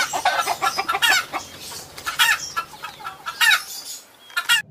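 A hen clucks repeatedly in short, bright bursts, with a few louder squawking calls mixed in, fairly close and without any talking.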